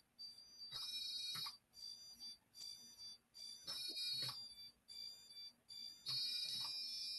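A Dolphin Neurostim device used along a scar emits a series of short, high-pitched beeps in quick bursts, ten per pass, repeating at an uneven rhythm, fairly faint with a soft hum underneath.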